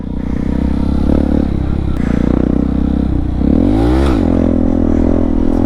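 A Honda Grom motorcycle engine revs loudly and continuously up close, rising and falling in pitch with a sharp climb and drop midway as the bike is thrown into a coaster wheelie.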